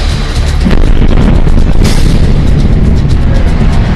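Russian missile strike explosion in Kramatorsk, eastern Ukraine, picked up on CCTV: a loud, dense blast roar with heavy low rumble that swells around the first second and stays thick and sustained, with no voices.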